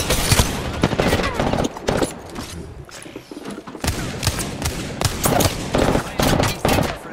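Bursts of automatic gunfire crackle in an Apex Legends firefight, loud repeated volleys with a short lull in the middle before heavy shooting resumes, with voices talking excitedly in between.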